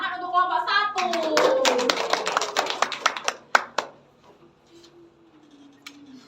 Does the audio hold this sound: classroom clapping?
yes